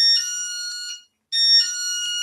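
A motion detector alarm wired to a house sounds a loud, piercing electronic beeping tone close by, in two long bursts separated by a brief silence.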